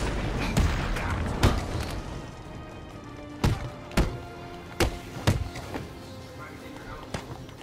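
Enemy gunfire in Batman Arkham City, heard as a series of sharp, heavy thuds and bangs spaced irregularly over a steady game background, several close and loud.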